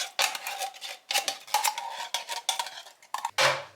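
A utensil scrapes and clinks against a dish while lasagne ingredients, including cream of tomato, are mixed, giving a run of close, irregular scraping strokes with short pauses and a final heavier knock.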